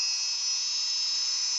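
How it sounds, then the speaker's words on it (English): A Dremel rotary tool spins at high speed with a thin, steady, high-pitched whine, close and alone, on a lathe jig. "turn the Dremel on."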